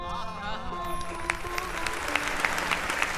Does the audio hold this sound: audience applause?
yes